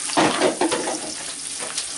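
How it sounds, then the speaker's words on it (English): Onion sizzling as it hits hot moringa oil in a cast iron pan, a loud, close frying hiss with stirring scrapes, strongest at first and then settling to a steady crackle. "You can hear my seasoning, my sizzling right away when I put the onion in."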